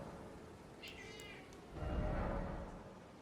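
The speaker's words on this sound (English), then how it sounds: "It's just my cat." A pet cat meows once, a short close cry followed by rustling and low thumps as it climbs on someone, faint against steady background noise.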